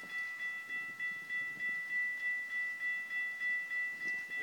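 Santa Fe 3751, a steam locomotive, approaches Upland Station with faint, distant rhythmic pulsing and a thin steady ringing tone above it, quiet and with no voices.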